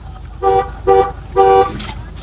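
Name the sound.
car horn honking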